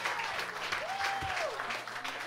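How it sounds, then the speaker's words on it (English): Concert audience applauding for the opening bands at a lounge show, a steady wash of clapping with scattered cheers throughout. "So please, round of applause for the first two bands."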